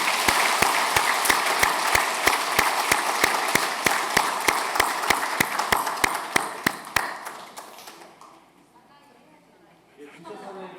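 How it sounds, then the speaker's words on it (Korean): A church congregation claps during a Sunday service. Loud, evenly spaced rhythmic claps ring out for about seven seconds, then stop abruptly and leave quieter room sound and faint murmuring. "크게 박수로 격려하겠습니다."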